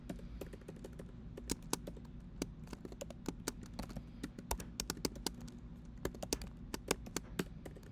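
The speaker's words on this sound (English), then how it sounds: "I'm not great at typing that" Rapid, uneven keystrokes on a computer keyboard while HTML table code is entered, close and fairly quiet, with irregular clicks and occasional louder taps.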